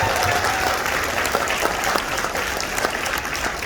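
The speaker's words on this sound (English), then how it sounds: "Let's have a round of applause." Steady, dense applause from a convention audience at the closing ceremony, filling the hall continuously without pause and with no voices.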